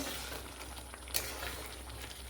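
Mocha chingri malai curry of banana flower and prawns, made without coconut milk, simmers in a pot, giving a faint, steady bubbling sizzle that stays even throughout, with no voices.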